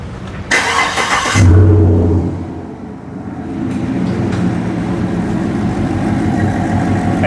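An engine misfiring on a dead cylinder number one cranks with a brief loud whir, catches, and settles into a steady, rough, loud idle that runs on alone.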